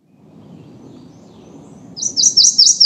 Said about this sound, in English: I want to listen to a recording of a real prothonotary warbler here and get an idea what that sounds like.